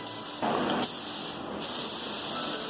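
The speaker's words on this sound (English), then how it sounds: "I cleaned out my spray gun with a little lacquer thinner and put a little bit of Bulldog in there." A paint spray gun sprays Bulldog plastic adhesion promoter onto a shaved New Edge Mustang bumper, a loud close hiss of compressed air that steps up in short intense bursts as the trigger is pulled.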